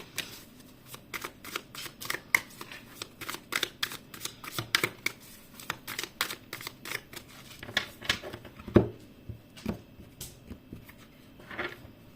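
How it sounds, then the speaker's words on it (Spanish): Tarot cards are shuffled in a long run of quick, crisp riffling flicks, close and fairly loud, with brief pauses between bursts. "Vamos a ver ahora qué nos dicen las cartas del tarot."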